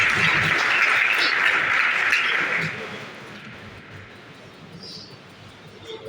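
An audience at a Red Cross first-aid training event bursts into loud applause for a few seconds, then the clapping fades into quiet room ambience.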